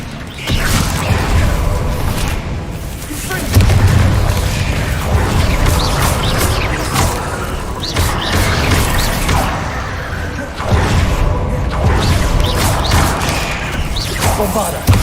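A Confringo fire spell explodes in a spellcasting video game, with repeated booming thuds, crashes and creaking debris in dense, loud bursts over about fifteen seconds amid busy combat noise, with talking mixed in.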